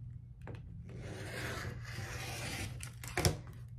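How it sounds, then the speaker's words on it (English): A cutter slices the selvage edge off doubled quilting fabric along a ruler, a soft rasping scrape that ends in a sharper burst, close and fairly quiet, with no voices. "I'm going to take my ruler and I'm going to cut off this edge right here that's the selvage edge"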